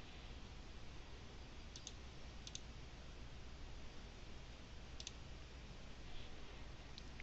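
Sparse computer mouse clicks while opening a report in Microsoft Access, a few single and double clicks, faint and close, over steady background hiss with no talking.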